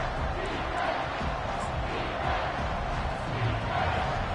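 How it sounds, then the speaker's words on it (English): A home college football crowd at an Auburn vs Ole Miss game roars to make noise on a third-down defensive play, a sustained, dense wall of cheering and shouting heard from within the stadium. "Here comes this home crowd as the defense tries to get off the field on third down"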